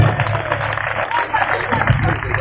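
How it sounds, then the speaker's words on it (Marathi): An audience at a Nationalist Congress Party gathering in Adgaon Budruk, Chhatrapati Sambhajinagar, claps to welcome an arriving guest. The steady applause carries on throughout under a droning hum. "सर्वांनी एकदा जोरदार टाळ्या वाजवून त्यांचं स्वागत करा"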